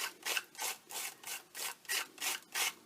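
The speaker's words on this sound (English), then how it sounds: "So I'm just going to scrape it through fairly lightly." A palette knife scrapes light texture onto an altered book page in repeated even strokes, about nine rhythmic rasping passes in three seconds, close and fairly soft with no talk.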